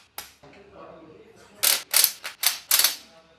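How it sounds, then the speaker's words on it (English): An open-ended spanner loosens a 27 mm hex bolt on a Royal Enfield Himalayan 450 side stand, giving a few sharp metallic clicks and clanks in quick succession near the microphone, without speech. "You'll need an open-ended spanner. Just place it like that, and the bolt comes off very,"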